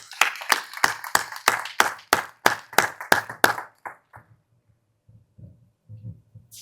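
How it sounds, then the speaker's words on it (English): Audience at an economic summit claps for a university president, about a dozen firm, fairly sparse hand claps in quick rhythm over three and a half seconds, then tapering off into near silence with faint murmurs. "Let's give him a round of applause"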